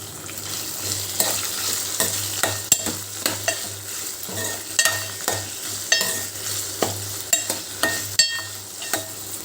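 Ingredients for mint chutney frying in a pan, a soft continuous sizzle broken by repeated close scrapes and clinks of a spoon stirring at a steady, irregular rhythm.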